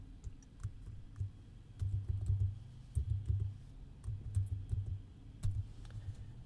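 Quiet, irregular bursts of key clicks as someone types a password on a computer keyboard, with short pauses between runs of keystrokes.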